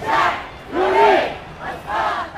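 A crowd of protesters marches and shouts in loud, rising and falling bursts of chanting, three surges of massed voices close by with no clear single speaker.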